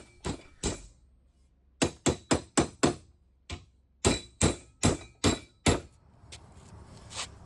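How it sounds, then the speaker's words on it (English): A hammer smacks a steel flat bar clamped in a vise jaw to bend it for a lawn tractor ball hitch, sharp metallic blows landing in quick bursts of three to five, close and alone. "I pull on it and then smack it with a hammer"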